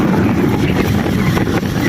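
Motorboat ride on open water near Ajuy, Iloilo, with a steady loud engine drone and rushing wind buffeting the microphone throughout, no one speaking.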